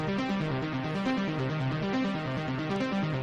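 Synth line from a cover, a steady pulsing, stepping pattern that stays at an even level throughout, with no voices.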